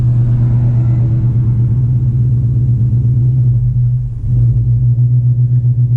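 A Dodge Charger R/T running an E85 tune idles with a loud, steady low rumble that dips briefly in the middle before recovering, a surge in the engine note.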